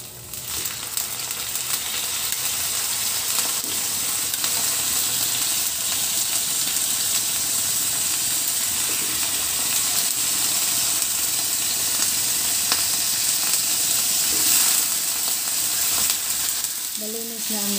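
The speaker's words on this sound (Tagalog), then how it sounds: "Medyo pula na siya kaya ilalagay ko na itong pusit." Squid sizzles and fries steadily in a hot pan for adobong pusit, a dense continuous crackle and hiss with stirring at close range, no talking.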